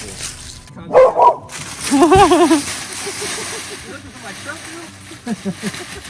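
A dog at a campground barks a few times in short bursts, fairly close, with a yelp or whine mixed in amid outdoor background noise.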